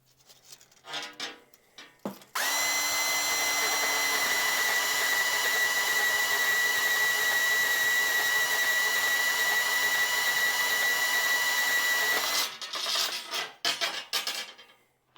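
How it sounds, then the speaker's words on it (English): A power tool runs steadily for about ten seconds while cutting a 2-foot piece for a hot wire roller at a pastured pen, its loud whine holding a constant pitch between short bursts of handling noise. "I think I'm just going to cut a 2-foot piece, and we'll see how it works out."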